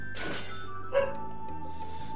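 A single short dog bark near the middle rises over steady background music and sound effects in Naruto: Ultimate Ninja Storm.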